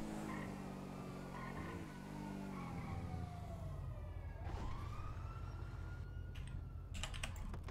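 Police siren in GTA 5 FiveM, a wailing tone sweeping down and then back up, moderately faint and mixed with engine noise and a burst of clicky keyboard typing near the end.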